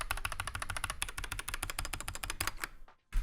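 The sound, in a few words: typing on SteelSeries Apex 9 TKL keyboard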